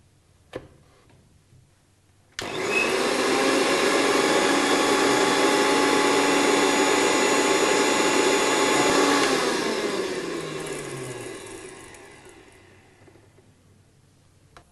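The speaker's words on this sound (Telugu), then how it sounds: "వేయించిన మిశ్రమం అలాగే తురిమి పెట్టుకున్న కొబ్బరిని వేసి మిక్సీ చేసుకోవాలి" A kitchen mixer grinder whirs loudly as it grinds a roasted spice mix with grated coconut for a brinjal and field-bean kootu, starting abruptly after a brief click, holding a steady motor drone, then slowing and winding down.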